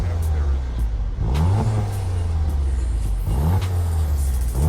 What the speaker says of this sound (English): You also get a dual exhaust that is functional. Sounds great.